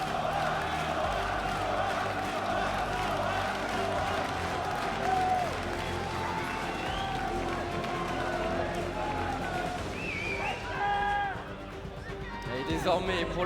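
A large, passionate French crowd of esports fans roars and cheers at the League of Legends World Championship, a dense sustained wall of noise with a caster talking over it.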